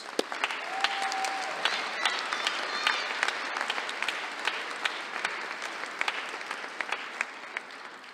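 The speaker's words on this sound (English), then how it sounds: "Give yourselves another round of applause" A commencement audience applauds steadily throughout, a dense wash of clapping with sharp individual claps standing out and a brief whistle or cheer near the start.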